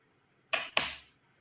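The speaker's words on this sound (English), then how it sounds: "you can hear the runes shuffling about" Runes shuffled about by hand, two quick clattering rattles close to the listener in otherwise quiet surroundings.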